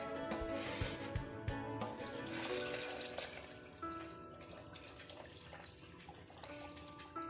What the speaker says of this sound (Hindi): और इसमें हमने पानी डाल लेना है।